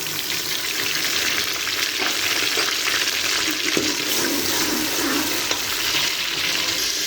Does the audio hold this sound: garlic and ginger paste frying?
yes